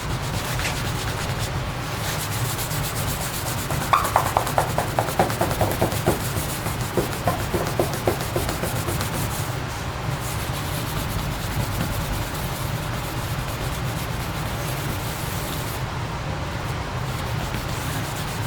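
A rag soaked in Goo Gone is rubbed back and forth over leftover decal adhesive on a truck surface, giving close, scratchy wiping strokes in quick bursts that settle into steadier, softer rubbing.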